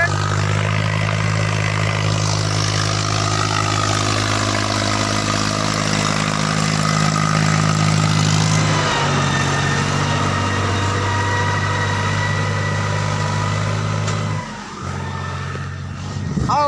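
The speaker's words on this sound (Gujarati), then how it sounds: "આવે છે ટ્રેક્ટર." A tractor engine approaches along a badly muddy farm track, a loud, steady droning hum with a slowly wavering pitch that shifts midway and briefly dips near the end, no talking.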